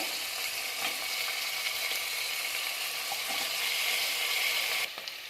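Chopped potatoes tossed into a hot pan, giving a loud steady sizzle and hiss of frying with faint clinks of stirring, continuing evenly until it drops away near the end.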